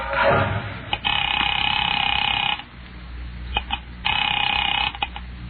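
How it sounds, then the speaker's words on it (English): A telephone rings in a radio drama sound effect, with a click of the handset first and then two long, loud electric rings close up, separated by a brief pause. "Picking it up quietly, I dialed my daughter's number, Alec Bartlett's wife."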